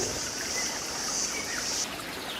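A rocky river stream flows nearby in a steady, soft rushing wash, with a thin high hiss running through most of the moment before easing, and no voices.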